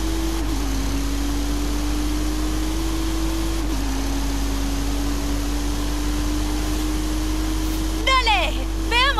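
A Twin Mill car's engine drones loud and steady in Forza Horizon 5 on the Hot Wheels track. Its pitch climbs slowly, dips briefly at two gear changes, and ends in a burst of quick chirping sounds.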